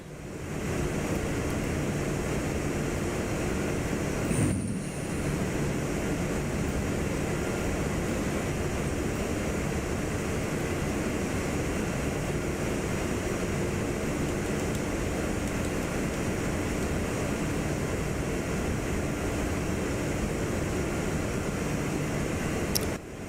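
Inibuilds A340-300 taxiing in Kuwait in Microsoft Flight Simulator 2024, a steady broad roar of engine and rushing air that holds constant throughout, with one brief whoosh partway through and no talking.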